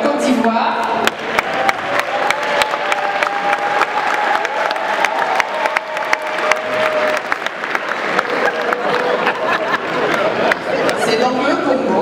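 A large audience at a UNESCO gathering in Paris applauds steadily for several seconds, dense clapping mixed with crowd murmur and a few voices, near and loud throughout.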